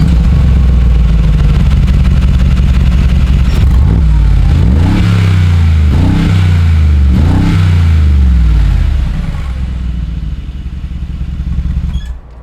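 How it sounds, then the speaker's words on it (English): Engine of a 2021 Mercedes G63 AMG running loud and close, with three sharp revs around the middle that rise and fall, then the note settles to a quieter idle near the end. "I'm behind the wheel, the engine is running, I'm ready to go"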